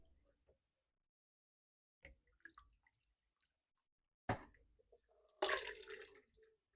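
Chicken bone broth stock being ladled for canning, with a few soft liquid drips and splashes, then a louder pour and slosh near the end, separated by quiet pauses.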